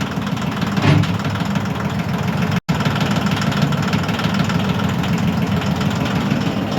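A Cub Cadet mower's Yanmar diesel engine idles on a shop floor after a cold start, giving a steady, close, rough clattering rumble at a constant pace, with one brief cut partway through.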